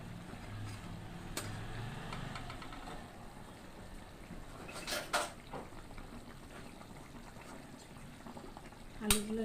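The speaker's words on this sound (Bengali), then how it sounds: "এখন বলকা উঠো, তারপরে আলুটাও একটু সিদ্ধ হোক।" Potato curry with kaikka fish and eggplant simmers in a pot, giving a soft steady bubbling with a few sharp clinks of a utensil against metal, faint and close.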